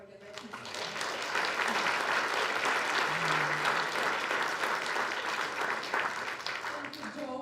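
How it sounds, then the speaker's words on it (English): Sustained audience applause fills a university hall after a panel talk, a dense, steady wash of clapping from many hands that swells quickly and holds loud throughout before tapering slightly at the end. "A huge round of applause for Trevor Hancock"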